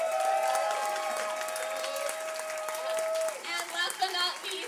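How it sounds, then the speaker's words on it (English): An audience at a live stage show applauds the volunteers: steady crowd clapping, with music playing and voices underneath. "if we could give them a round of applause"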